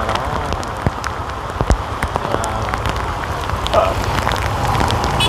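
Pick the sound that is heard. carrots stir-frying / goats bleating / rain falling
rain falling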